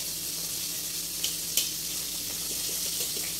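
Powder-coated boneless chicken frying in hot oil, a steady continuous sizzle with a few small pops and crackles, close and even throughout.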